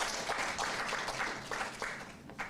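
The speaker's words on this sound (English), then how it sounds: "let's have a round of applause for all speakers first." Applause from the audience at a DNS industry forum: light, fairly soft clapping in a few rolling waves, quiet and somewhat distant, with no talk over it.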